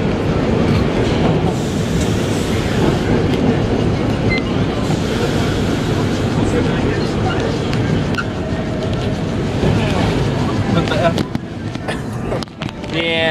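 Vintage R1 subway cars of the nostalgia holiday train run from Queens Plaza toward 2nd Avenue, with a loud, continuous roar of wheels and motors, rattling and clatter, and screeching near the end, heard from on board.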